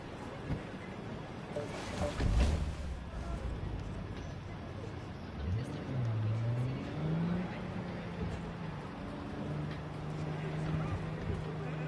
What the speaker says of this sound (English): Ooh, my car drives itself.